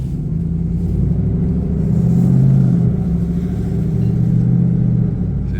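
A 6.2L GMC Sierra fitted with an AWE 0FG dual catback exhaust gives a deep, steady exhaust rumble that swells slightly in the middle and then settles, close and continuous.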